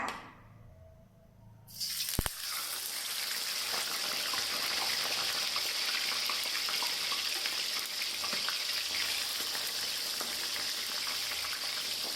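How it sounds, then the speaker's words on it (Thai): Grouper hits hot oil in a pan after a brief quiet moment, then a loud, steady crackling sizzle of frying continues close by without pause. "พอน้ำมันเริ่มร้อนค่ะ เราใส่ปลาลงไปค่ะ"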